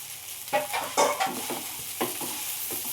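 Potato pieces are turned over and over in a hot pan for poha, several quick scraping stirs sounding close over a soft continuous sizzle.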